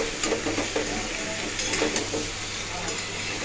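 Soybean chunks fry in hot oil in a pan with a steady close sizzle, broken by light scraping as they are stirred.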